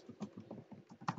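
Rapid keystrokes on a computer keyboard while a new file is created, a steady run of close, light clicks with a few louder taps near the end, no voices.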